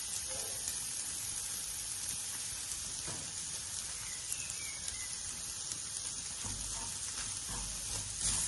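Spinach and egg thoran with grated coconut frying in a pan, a soft continuous sizzle with occasional faint scraping stirs, quiet and close, with no talking.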